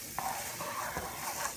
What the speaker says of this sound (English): my meat is getting all nice and browned up, and it smells really good